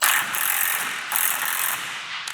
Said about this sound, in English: Now we can tighten the larger 5/8 bolt.